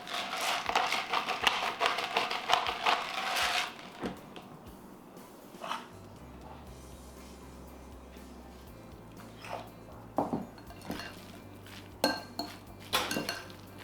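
Cutlery clatters against a bowl while McDougall's mayo is mixed, with busy, continuous scraping and clinking for a few seconds, then quieter scattered clinks and taps.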